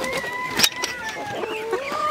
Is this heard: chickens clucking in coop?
yes